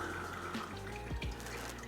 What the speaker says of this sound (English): Just waiting for the oil to stop dripping.